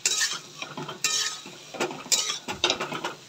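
Hot water goes into potato curry in a pan, bringing a bright hiss and sizzle broken by repeated scraping stirs of a utensil against the metal, with no talking.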